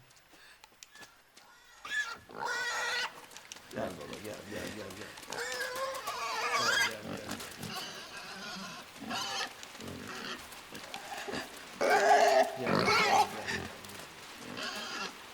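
Pigs grunting and squealing in the puzzle-platform game Inside, short animal cries that come and go in bursts, partly masked by someone talking and calling to them over the top.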